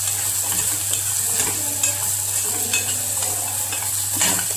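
Mixed vegetables seasoned with salt and Kolhapuri chutney, stirred in a hot pan with a steady sizzle and occasional scraping strokes of the spoon, close and continuous without any talk.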